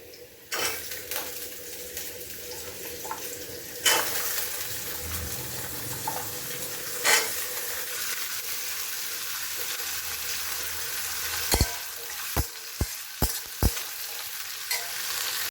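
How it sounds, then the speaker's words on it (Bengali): Mussels and potatoes fry in hot oil in a pan with onion and garlic, giving a steady sizzle broken by stirring scrapes and several sharp clinks of a utensil against the pan near the end. "মিটুলি আর আলু সব কটার আমি গরম তেলে ছেড়ে দিয়েছি"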